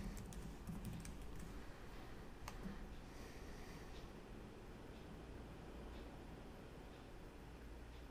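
Keys on a computer keyboard tapped steadily while entering a password for a crypto wallet login, a faint, quiet run of light clicks over a low background hum with no talking.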